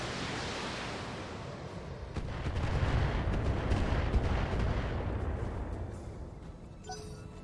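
Heavy weapons fire from battle mechs in the BattleTech video game, a sustained roar of booming blasts and rumbling impacts swelling in the middle, with no talk over it.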